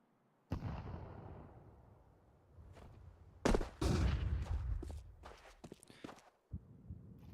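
Grenade and incendiary thrown during a competitive Counter-Strike match, giving sharp explosive bursts and crackling fire with a loud blast near the middle, mixed with in-game footsteps and action.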